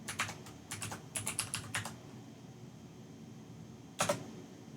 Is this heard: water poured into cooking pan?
no